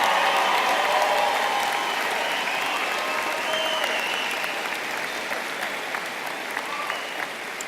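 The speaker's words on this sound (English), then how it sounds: "another round of applause for the graduates of the 2014 class of Jane Addams College of Social Work" Sustained crowd applause for graduates at a 2014 social work college commencement, a dense continuous wash of clapping with some cheering, holding steady and tapering slightly.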